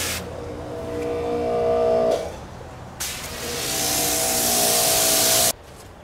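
Compressed air blasting Bondo and paint off a car part in a garage, two loud hissing bursts of a few seconds each separated by short gaps, with a tonal whine under the first burst.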